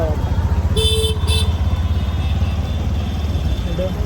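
Engines of cars and motorcycles idle and rumble in a traffic jam, with two short bursts of horn honking early on over a continuous loud road drone.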